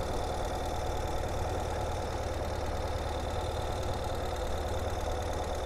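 A 2022 Ural Gear Up motorcycle engine idles in second gear with the clutch released and no throttle, a steady low, even rumble running throughout without a break.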